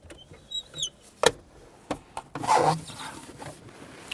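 Plastic center console of a 1992-1996 Toyota Camry being wiggled loose and lifted up between the front seats: a few short rubbing scrapes and knocks, then a longer scraping rustle, close and fairly quiet with no talk.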